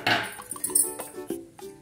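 A tomato dropped into a mixer grinder jar while making homemade paneer masala, giving a few close, light clinks and knocks against the jar over under two seconds.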